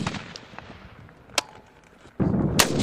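Rifle shots fired at drones crack out in the open air: a few sharp reports, one isolated and a louder burst near the end, with a rumbling tail and no talk.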